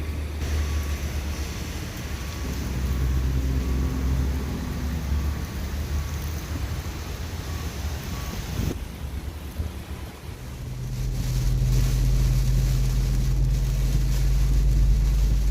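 A car drives home along a congested American road in heavy, nonstop rain, giving a continuous broad rush of road and wind noise with low rumble. The noise dips briefly midway, then swells with a deeper steady drone.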